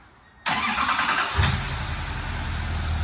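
A 2020s L5P Duramax diesel pickup engine with an aftermarket exhaust cranks and catches after a short quiet moment, then settles into a loud, steady, deep idle.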